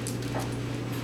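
A puppy whimpers softly in a home kitchen or mudroom, faint high whines over a constant low electrical hum.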